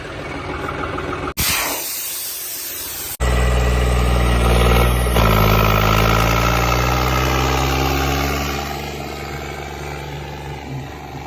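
A John Deere 5210 tractor idles without its exhaust pipe, a loud, rough, throbbing engine drone heard up close, broken by a short dropout, then a steady rumble that eases slightly toward the end.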